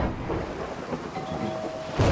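A heavy rainstorm pours down in a steady, dense hiss with a low rumble of thunder underneath, swelling louder near the end, with no voices.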